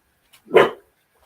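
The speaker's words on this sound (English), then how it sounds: "You still got to get a bark in, don't you?" A dog lets out one short, sharp bark close by, preceded by a faint tiny yip, otherwise surrounded by quiet.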